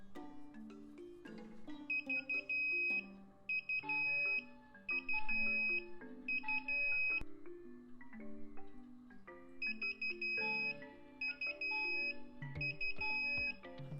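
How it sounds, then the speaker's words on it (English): Temperature alert from an Inkbird WiFi aquarium controller's smartphone app, sounding as repeated bright electronic alarm beeps in several bursts over a continuous tonal melody, with no talking. "you will get an immediate text alert if your tank gets too hot or too cold"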